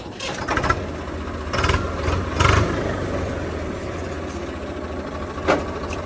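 A Swaraj 855 tractor engine idles with a low, steady rumble, rising briefly a few times, heard up close with no talking.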